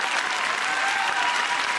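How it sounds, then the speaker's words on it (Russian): Brief, dense burst of studio audience applause during a Russian television show, steady and evenly loud throughout. "Ваши аплодисменты."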